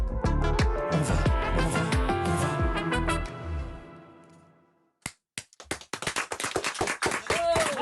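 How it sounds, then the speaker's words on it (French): Live applause from a small audience in a radio studio, breaking out sharply after music fades and continuing as irregular, close, crisp claps, with a voice briefly present. "Les applaudissements en live dans ce studio"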